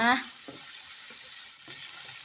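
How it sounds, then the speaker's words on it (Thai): Garlic and chili are stir-fried over medium heat in a pan, giving a steady close sizzle with a few soft scraping stirs, and a brief voice breaks in at the start. "ผัดจนกระเทียมและพริกสุกหอมดีนะคะ"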